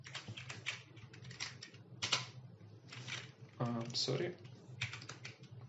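Someone types a command on a computer keyboard during a Linux terminal lesson: close, quiet clusters of keystrokes in short bursts, with a brief spoken word partway through.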